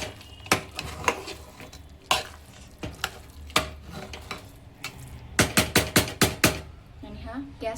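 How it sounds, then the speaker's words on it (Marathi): Jaggery being stirred into simmering khapli wheat kheer in a pot: a run of sharp spoon scrapes and knocks against the metal, some in quick clusters, over a low background hiss, with a voice talking in between. "खीर खाली हलवून घेऊया।"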